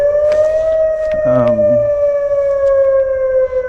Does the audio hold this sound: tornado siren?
yes